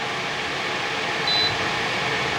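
A Simplus air purifier runs with a steady, fairly loud airy whoosh, and a single short electronic beep rings out partway through over the constant fan noise.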